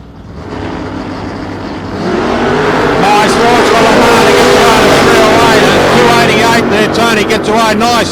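A 1967 Chevrolet Camaro SS with hidden headlights launches at a drag race, a loud, sustained engine roar building and holding close by, with a commentator talking over it.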